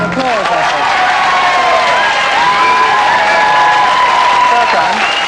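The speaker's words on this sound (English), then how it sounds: "a round of applause, I think" A live comedy game show audience claps and cheers loudly for several seconds, with voices shouting and whistling through the sustained applause.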